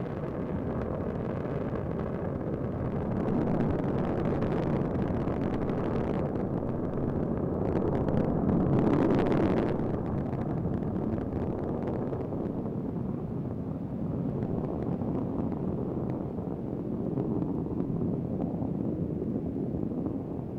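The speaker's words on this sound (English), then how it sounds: "Endeavor heads out on a course to intercept the International Space" Space Shuttle Endeavour on its STS-123 ascent, heard as a continuous broad low rumble at a steady level with a brief swell midway, distant and wind-buffeted, with no voices.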